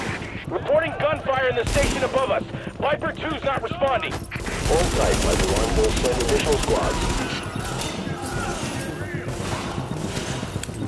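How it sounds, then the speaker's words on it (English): Gunfire in the third-person shooter The Division, set in Grand Central Station, rapid automatic bursts and scattered shots that mix with game dialogue over a radio early on, then sustained firing fills most of the scene. "Reporting gunfire in the station above us."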